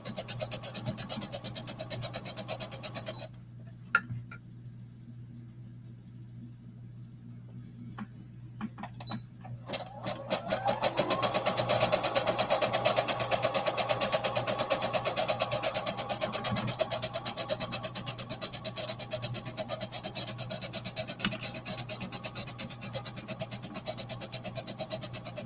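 Sewing machine stitching elastic onto a Greenstyle Embrace sports bra, a steady mechanical whir that starts after a pause, then runs continuously and evenly at close range with no talk.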